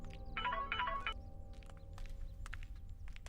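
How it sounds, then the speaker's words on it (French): A mobile phone ringtone plays in a home, a short melodic tonal burst of about one second near the start over a low background hum, followed by faint clicks and rustling. "Sonakshi, ton téléphone sonne."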